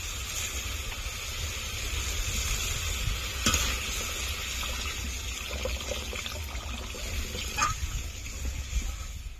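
Water poured into hot fried masala for a Bengali katla fish curry hisses and sizzles steadily in the pan, with a couple of sharper splashes and clinks.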